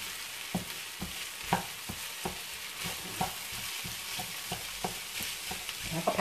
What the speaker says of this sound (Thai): แล้วก็ผัดเรื่อยๆเนาะจนมันเข้ากัน